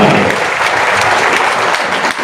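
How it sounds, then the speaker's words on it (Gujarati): An audience at a business meeting breaks into dense, loud, continuous applause from many people clapping together at close range, holding steady through the whole short burst. "એકવાર જોરદાર તાળી બધા માટે"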